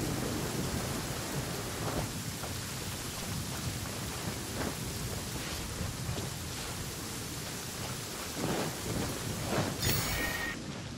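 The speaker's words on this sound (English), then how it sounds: "stay indoors until the storm passes" Steady, heavy rain hisses throughout a Genshin Impact thunderstorm, with low rumbles of thunder rolling in several times and a brighter crack near the end.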